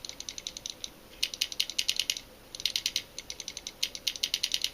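A DLX Luxe paintball marker with its breech clear and its trigger pulled, the solenoid cycling in rapid bursts of crisp mechanical clicks, close and steady, with short gaps between runs.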